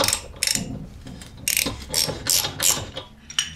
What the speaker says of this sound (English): I'm going to switch to the extension bar. I should be able to whiz them off.